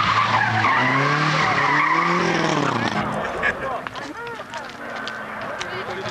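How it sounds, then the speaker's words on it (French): Race cars at a 1989 Sombreffe race, engines revving loudly and rising and falling in pitch as they pass close by, with tire squeal and a commentator talking over the noise. "Voilà maintenant la voiture de Tony"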